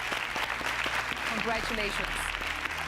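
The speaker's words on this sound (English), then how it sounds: "A round of applause." Studio audience applauding the round winner of a leadership competition show, steady clapping beneath a voice that speaks over it.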